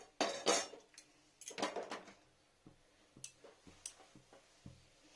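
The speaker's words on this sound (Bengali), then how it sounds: "একটা কড়াই বসিয়ে দিই।" A kadai wok is set down on a home kitchen stove while cauliflower pakoras are being made: two loud, close metallic clatters and scrapes, followed by lighter scattered clicks and taps, with no talking.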